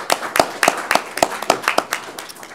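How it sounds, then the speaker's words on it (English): Applause for the chief at a council committee meeting: a small, sparse round of evenly spaced hand claps, close and fairly loud, that tapers off. "Chief, we're going to get you your round of applause."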